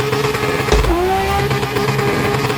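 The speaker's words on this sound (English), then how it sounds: "we're going to start this burnout in second gear, come to a standing burnout" A car engine revs hard and steadily through a standing burnout attempt, starting in second gear, loud and close with a brief low thump partway through and no talking.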